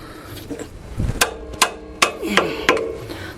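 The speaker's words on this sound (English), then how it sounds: "I'll hit the wrench right here, not with the metal, but on the side right here to break it loose" A hammer strikes the side of a wrench several times to break loose a bolt on Toyota rear brakes, in a slow, uneven rhythm, each blow ringing sharply and close.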